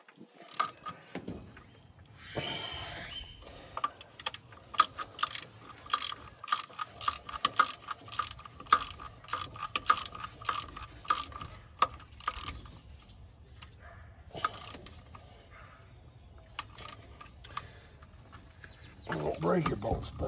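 Ratchet wrench tightening bolts on a 1978 Ford truck, giving a long run of quick, evenly spaced metallic clicks up close, pausing briefly and resuming, with a voice talking now and then in the background.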